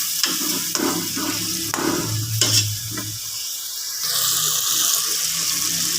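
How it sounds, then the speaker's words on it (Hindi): Chopped tomatoes and green chillies cooking in a pan, a sizzling hiss broken by spoon scrapes and taps early on, then a louder steady sizzle in the last seconds. "टमाटर नरम होने तक हम इसको पकाएंगे"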